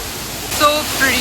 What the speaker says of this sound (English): To this waterfall now.